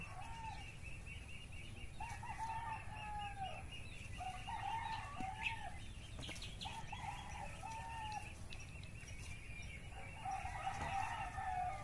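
Chickens cluck in short repeated bursts, fairly faint, over a low steady background rumble outdoors.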